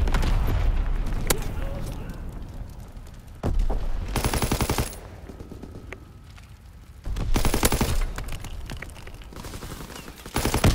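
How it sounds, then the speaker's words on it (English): Bursts of rapid machine-gun fire from a strafing fighter plane in Call of Duty WWII, loud rattling volleys in two main stretches amid steady battlefield noise and scattered single shots. "Fighter pilot inbound, strafing the target."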